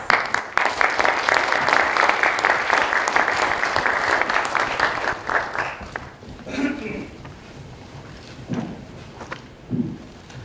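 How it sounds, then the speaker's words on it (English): Audience applause for an ambassador at a formal presentation, loud sustained clapping that thins after several seconds, followed by a few footsteps and faint voices. "please give him a big round of applause."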